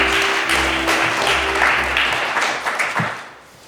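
An audience at an award ceremony for the year's best in entrepreneurship and career education applauds, a moderately loud, steady patter of many hands clapping that fades toward the end, with a low hum running underneath.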